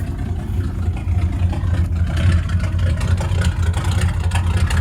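A Ford engine with a straight-pipe exhaust idles low at about 500 RPM, a loud, deep, steady rumble with a slightly uneven pulse and no talk.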